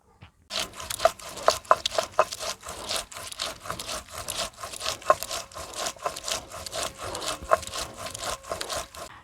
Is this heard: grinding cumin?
yes